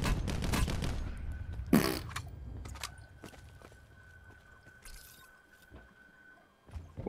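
Gunfire in the Black Ops 4 Blackout battle royale game, with several loud shots early on, one sharp close blast near the two-second mark, then quieter scattered shots and footsteps against a steady background hum.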